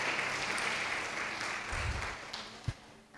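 Church congregation applause during a sermon service, a steady wash of clapping that swells and then tapers off, with a few louder thumps near the end.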